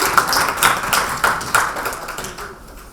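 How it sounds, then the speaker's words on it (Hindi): Audience applause for poet Suman ji at a women poets' conference honouring International Women's Day, a steady patter of hand claps with several louder surges that thins out toward the end. "एक जोरदार तालियां सुमन जी के लिए"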